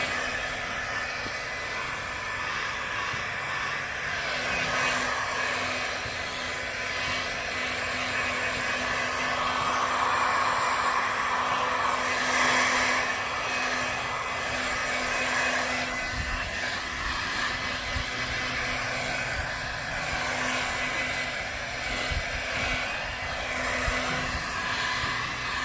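A heat gun dries paint on the front brake calipers of a 2004 Suzuki GSXR 1000. It gives a steady, close blower roar with a faint hum that runs unbroken for the whole stretch, with no talking.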